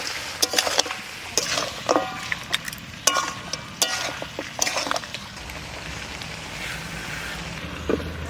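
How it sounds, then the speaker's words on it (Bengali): Goat head mutton curry being stirred in a pot with onion, chillies and ground cumin, village-style home cooking: a spoon scrapes and clatters against the metal in irregular bursts over a steady sizzle, close and clear with no talk. "সব এবার একটু ঢাকাটা উঠিয়ে নাড়া দিয়ে দিচ্ছি।"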